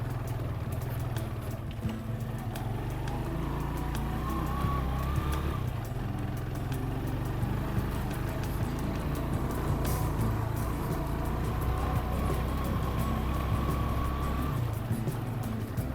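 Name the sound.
Chinese motorbike carrying two people passing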